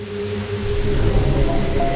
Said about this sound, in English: This is the source of the rain.